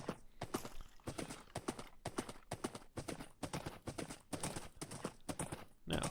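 Hooves clip-clop in a steady, rapid galloping rhythm as a horse is ridden in a video game, fairly quiet and continuous throughout.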